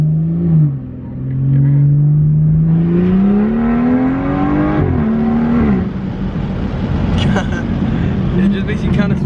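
BMW 440i with a catless downpipe and stage 2 tune, its exhaust droning loud and close as the engine revs rise and fall, then settling into a rougher, steady rumble.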